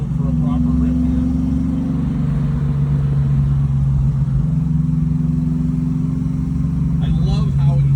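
A car engine growls steadily while driving, with a deep, vibrating drone that stays close and loud throughout.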